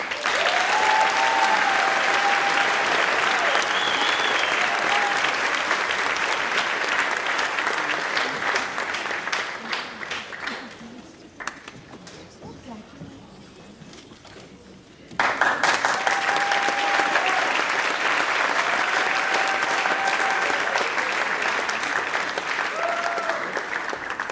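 Sustained applause from a large crowd at a high school senior awards ceremony fills the room, dipping briefly in the middle before the clapping swells back at full strength.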